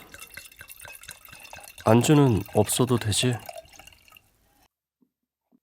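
Liquid trickles and drips into a glass, then a person talks briefly over it before the sound fades to quiet.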